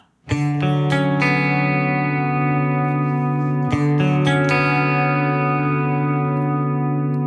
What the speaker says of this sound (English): I want this to be a clean guitar at first